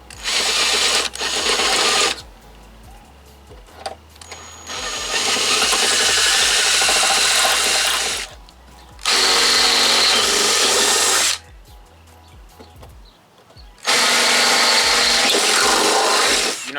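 A power drill whines in three long bursts of several seconds each, drilling into metal with a drill bit, separated by short pauses of quieter shop noise.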